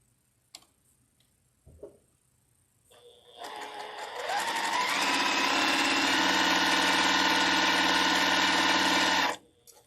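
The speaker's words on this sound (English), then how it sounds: "then we're going to sew down each of these sides" A sewing machine stitches fabric in one long steady whirring run after a few faint clicks and handling taps, starting up, holding a constant buzzing rattle, then stopping abruptly.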